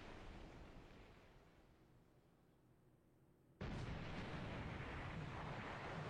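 A heavy cruiser, the Louisville, fires its guns at the destroyer Yamakaze in a naval video game: a sudden loud, sustained blast of roaring noise breaks in after a quieter stretch of low ambient rumble.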